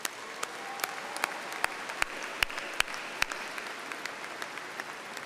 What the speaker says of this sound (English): Students, let's give your loved ones a round of applause